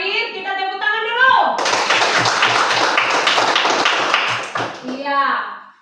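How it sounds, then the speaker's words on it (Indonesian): A class of students claps hands together in a steady, dense burst of rhythmic clapping lasting several seconds, preceded and followed by a teacher speaking in a classroom. "kita tepuk tangan dulu."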